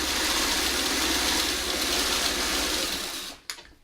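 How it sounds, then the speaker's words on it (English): A sewing machine runs fast, stitching quarter square triangle quilt pieces without pins. Its loud, close, continuous mechanical rattle ends abruptly with a final clack. "We're gonna do all this sewing first."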